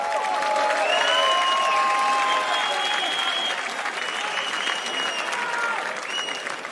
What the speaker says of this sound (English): Slim Trabelsi, on peut l'applaudir encore une fois.